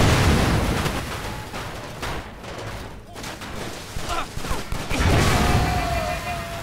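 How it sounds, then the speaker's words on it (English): Gunfire in the video game Stranglehold rattles off in rapid bursts at an explosive barrel, with booming impacts that fade mid-clip before a heavy blast swells back up. "I didn't even know that I was shooting at an explosive barrel there."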